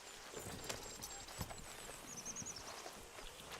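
Horse hooves clip-clop at a walking pace across the ground in Red Dead Redemption 2, a few soft irregular steps at moderate distance over faint background ambience.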